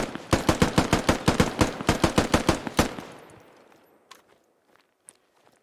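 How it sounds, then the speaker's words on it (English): Rifle fire aimed at a vehicle's wheels in the military shooter game Squad, about fifteen sharp, loud shots in a fast steady rhythm, then a ringing tail fading into a few faint scattered clicks. "Just keep unloading, because once you destroy all four wheels, it's super slow"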